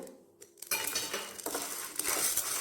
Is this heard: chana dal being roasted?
yes